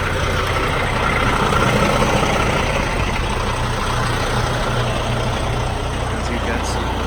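A 2020 International semi truck with a 53-foot trailer idles close by, a steady low diesel rumble with a broad hiss that holds constant throughout.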